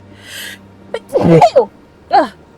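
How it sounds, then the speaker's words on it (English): A single close sneeze with a sharp gasping intake and a burst, followed by a shorter exhale or sniff, no talking. "I may sneeze a lot during the stream"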